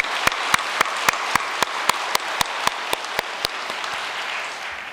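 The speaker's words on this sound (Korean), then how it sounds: "큰 감사의 박수 한번 올려주시면 좋겠습니다" Slow, rhythmic clapping at a New Year's Day prayer meeting, about a dozen sharp, evenly spaced claps ringing out against a faint room background and fading toward the end.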